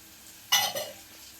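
Peanuts dropped into hot oil with dried chillies give one sudden close crackling sizzle and a short scrape of stirring that fades within half a second.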